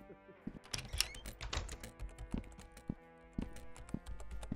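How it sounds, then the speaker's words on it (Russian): Keyboard typing in the video game Sally Face 2, a busy run of clattering keystrokes in irregular bursts, close and fairly loud over a music bed with pauses between flurries. "Тодд, у тебя клавиатура гремит."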